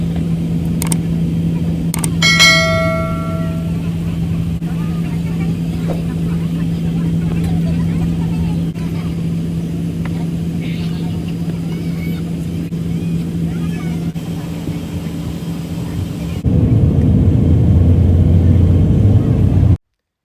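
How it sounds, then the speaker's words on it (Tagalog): An airliner's engines rumble in a long, steady low drone heard from inside the cabin on a flight leaving Israel, swelling louder near the end as power builds, with brief chimes early on. "lilipad na ho ang aming eroplano"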